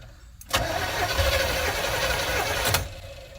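An old camper's engine cranks over after the key is turned, a loud steady starter whir that begins abruptly, spins continuously for a couple of seconds, then cuts off, heard close with no talking.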